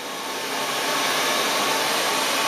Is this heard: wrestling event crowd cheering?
no